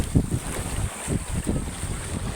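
Strong wind buffets the microphone while rough sea waves slosh and slap nearby in uneven surges.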